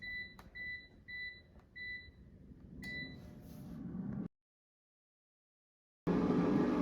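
An air fryer's control panel gives a run of short, bright electronic beeps as it is set to 400 degrees Fahrenheit for 22 minutes. A soft hum sits underneath, then the sound cuts out before a louder whir starts.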